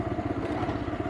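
A 2023 TVS Raider 125 motorcycle in eco mode pulls up from about 23 km/h. Its single-cylinder engine gives a close, rapid, throbbing putter that stays even and moderately loud throughout.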